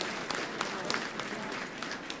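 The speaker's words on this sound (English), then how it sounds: "Big round of applause for them." An audience at a football club's 50th anniversary gathering applauds former 1974 Socceroos players, a quiet but continuous patter of many hands with scattered sharper claps, heard from some distance.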